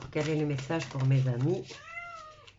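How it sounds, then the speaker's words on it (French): A big tomcat indoors meows insistently to be let out: several loud, drawn-out wailing meows close to the microphone, with a voice talking briefly over the end. "Vous allez entendre mon gros matou miauler parce qu'il veut sortir."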